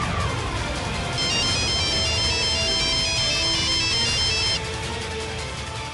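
A phone rings after a call is placed, a loud repeating electronic ringtone with a steady melodic pattern over a music bed, cutting off near the end.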